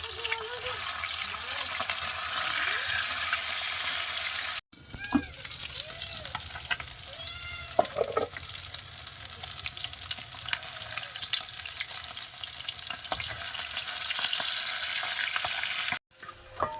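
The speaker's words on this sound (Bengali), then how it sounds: "এই কান মাছ ভাজা খুবই কঠিন, পুরো তেল ছিটকায় এত পরিমাণে" Fish frying in oil, spattering heavily, produces a loud, continuous crackling sizzle that runs almost the whole time, broken by two brief silences. Faint speech and a few clinks sit underneath.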